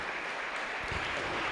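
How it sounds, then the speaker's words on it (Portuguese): A church congregation claps together at a birthday worship service, a steady wash of applause heard from a moderate distance for a brief moment. "Aplauda novamente o Senhor Jesus."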